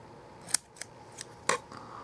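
Small scissors snip cotton wick for a Kayfun V4 clone vape atomizer, giving two crisp sharp cuts and a few lighter clicks, close and quiet.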